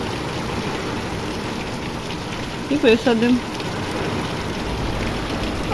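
Steady rain falls on an outdoor vegetable garden as a continuous, even hiss, with a brief spoken phrase near the middle.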